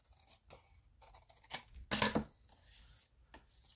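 Scissors snip through paper for a junk journal in a few quick cuts, the loudest crunching slice near the middle, with softer snips before and after in a quiet room.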